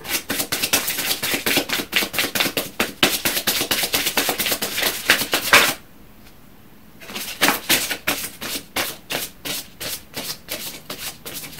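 Oracle cards called surrender cards are shuffled by hand in rapid, rhythmic riffling bursts, close and crisp, with a brief quiet pause midway before the shuffling resumes.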